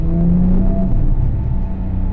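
A naturally aspirated Porsche 911 GT3 RS 3.8 (997.2) engine rumbles loudly and steadily close by, its low throb holding a fairly constant pitch with a slight rise in tone.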